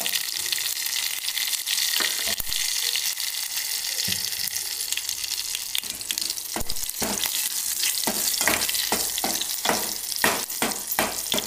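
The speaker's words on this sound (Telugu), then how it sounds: "జీలకర్ర, తాలింపు," Mustard seeds, cumin and green chilies tempering in hot oil for a paneer curry: a steady, close hiss of sizzling throughout, with a run of sharp scraping stirs toward the end.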